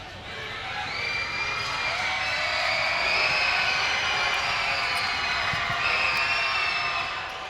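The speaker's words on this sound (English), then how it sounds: "Now this Stockton crowd supporting Weston Ranch," A Stockton crowd at a high school boys basketball game between Weston Ranch and Cosumnes Oaks roars and cheers, a dense sustained wash of shouting and whoops that swells and holds loud throughout.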